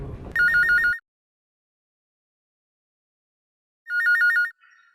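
Telephone ringing with an electronic warbling trill, two loud bursts separated by a few seconds of silence, the first overlapping a brief stretch of background sound.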